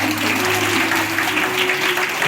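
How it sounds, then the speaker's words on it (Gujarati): An audience at a gathering claps for mothers, producing a dense, steady roar of applause that fills the whole couple of seconds, with no talking over it. "આપણી માં માટે તાળી પાડો ભાઈ"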